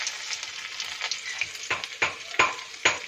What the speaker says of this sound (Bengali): এবার ওই তেলের মধ্যে দিয়ে দেবো আদা কুচি